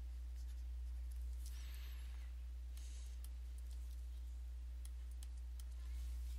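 Pen or marker strokes on paper or a board as a linear-programming production-scheduling equation is written by hand, faint scratchy ticks and short strokes over a steady low hum, with no talking.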